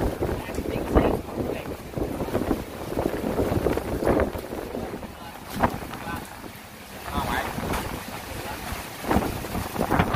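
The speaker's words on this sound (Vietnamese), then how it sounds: "Thật sự là hiện tại gió rất là lớn" Strong gusts of super typhoon Noru lash Da Nang, roaring and buffeting the microphone in uneven surges that swell and ease over ten seconds, with a person's voice partly heard under the wind noise.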